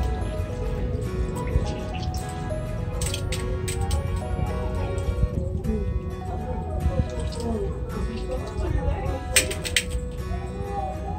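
Soaked fenugreek is squeezed by hand in a village kitchen near Trichy, giving wet squishing and dripping sounds as water runs out, over steady background music.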